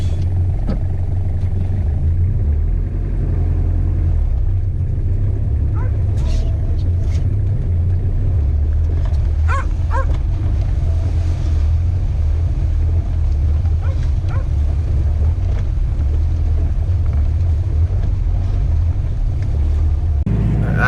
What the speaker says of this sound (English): Gonna punch it here. So we're doing 4-wheel drive